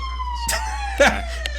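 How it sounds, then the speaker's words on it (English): A distant ambulance siren wails with a smooth, descending tone, while short bursts of nearby voices or noise cut in briefly. "That was an ambulance."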